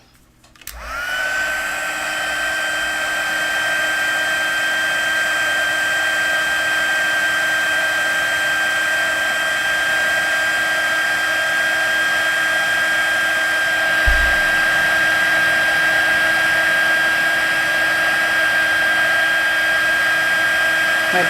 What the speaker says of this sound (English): I'm going to take my handy dandy heat tool